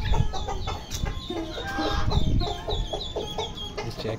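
Ducks and ducklings on a farm setup call continuously and close by, with busy overlapping high chirping peeps and throaty clucking calls throughout.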